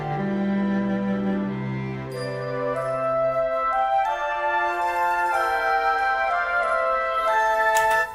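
Orchestral music plays with sustained low strings giving way to brighter layered instruments and a shimmering high tinkle near the end, no voices.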